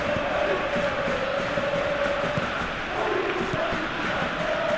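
A stadium crowd roars in PES 2021 during a simulated Barcelona vs Real Madrid Champions League match. The dense, steady murmur and cheering holds at an even level throughout.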